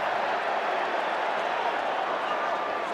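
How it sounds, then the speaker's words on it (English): Steady, loud roar of a stadium crowd at a South Africa versus Fiji rugby semi-final in Durban, a continuous wash of cheering and noise with no distinct breaks. "the crowd are trying to buoy their South African team into a little bit of action now"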